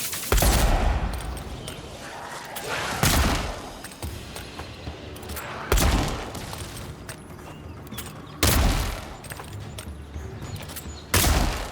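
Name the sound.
gunfire from shooting at a shadow in the video game Avowed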